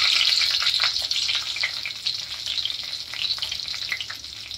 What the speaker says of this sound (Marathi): याच्यात आपण तेजपत्ता टाकूया, 2-3 कढीपत्ता, जिरे टाकूया,